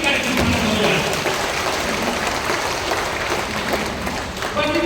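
An audience at a Hindi comedy poetry gathering claps in a dense, continuous wash of applause, with a voice on a microphone heard over it.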